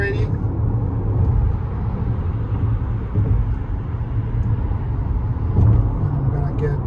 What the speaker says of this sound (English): You can see how fast it accelerates, and let's do it again.